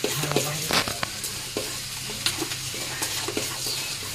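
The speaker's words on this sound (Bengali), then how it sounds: "এবার তেলের উপরে হিং দেবো, হিঙের উপরে এইটা দেবো, দিয়ে কষাবে" Asafoetida and spices frying in hot oil for a Bengali dhokar dalna, with a bright crackling sizzle broken by repeated scraping stirs and small clinks, close and loud, with no talking.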